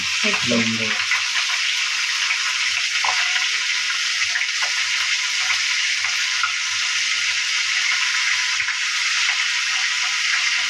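Garlic paste sizzling steadily in hot oil, a continuous loud hiss of frying with some clattering at the start and faint voices underneath.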